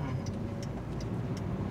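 A car's turn indicator ticks in a steady rhythm of soft clicks, roughly three per second, over a low engine hum while the car creeps forward in slow traffic during a driving lesson.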